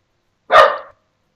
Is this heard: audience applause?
no